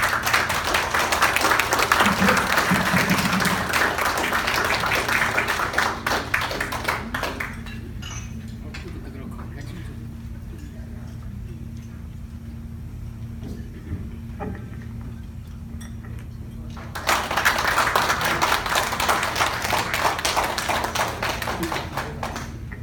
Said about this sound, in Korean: 박수로 청해 주십시오.